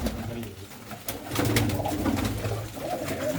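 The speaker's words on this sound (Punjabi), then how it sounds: "ਇਹ ਹੈ ਜੀ ਬਾਈ ਹੁਣਾਂ ਦਾ ਵੱਡੇ ਕਬੂਤਰਾਂ ਵਾਲਾ ਖੁੱਡਾ" Pigeons coo inside a large loft of mud-walled nesting boxes holding paired birds, a dense overlapping chorus of low throaty calls that swells midway, with people talking now and then underneath.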